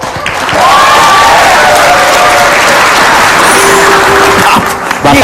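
Loud, dense applause from a studio audience at an Indonesian comedy talk show fills the whole stretch, a steady wash of clapping with a few brief tonal sounds over it.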